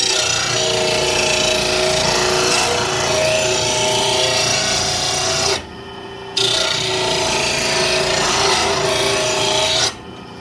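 A long-used bench grinder sharpens a lawn mower blade for a Simplicity Courier mower, giving a steady loud rasping grind that cuts out briefly twice as the blade lifts away, with no talk.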